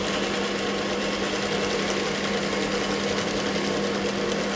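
A sewing machine stitches a blouse at a ladies' tailoring table, running in one steady, unbroken whir that stays close and fairly loud, with no voices over it.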